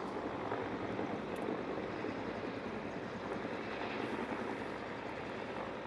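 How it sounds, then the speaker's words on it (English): Cobra and Huey military helicopters fly at a Marine aircraft demonstration, their rotor and engine noise a steady, distant broadband roar with no voices. "Right now, the Cobra and Huey are still scanning the zone"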